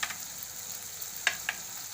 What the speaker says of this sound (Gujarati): તો પહેલાં આપણે હળદર નાખી દેવું. આપણે ધાણા જીરું નાખી દેવું,